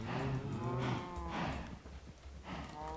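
Cows in Minecraft moo repeatedly, several long, low, loud moos in a row that overlap and drone with no gaps and no talk.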